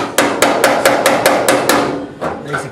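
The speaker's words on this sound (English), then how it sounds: "hammer on dolly and planish your welds down, and it keeps the shrinkage down" A hammer strikes metal against a dolly to planish welds on a car rocker panel: about ten sharp, ringing blows in a quick, even rhythm, loud and close in a workshop.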